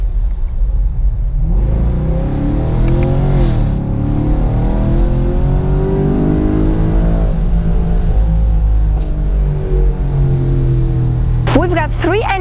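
Chevrolet Camaro V8 convertible engine revving up through the gears, a loud, close rising drone with repeated climbs in pitch and a steady rumble underneath.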